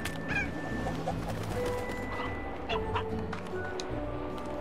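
Painted hens clucking in the Slime Rancher video game, short clucks and chirps repeating at a moderate distance over a steady background of game music and ambience.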